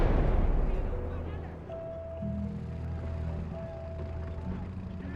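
Artillery fire rumbles in the World War II strategy game Call to Arms Gates of Hell, Ostfront, as heavy low booms and a continuous battle roar under a voice.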